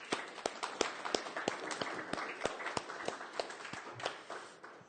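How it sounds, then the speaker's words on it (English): Scattered, fairly faint audience clapping at a DevOps meetup in Amsterdam, individual distinct claps in an uneven rhythm rather than a full ovation. "one last round of applause for Fiberplane,"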